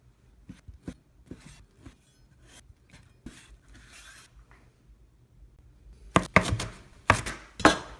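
Ingredients for low carb quiche muffins, including spinach, cheese and bacon, being chopped with a knife on a cutting board: a steady run of soft, close chops, then a few louder, denser bursts of cutting at the end.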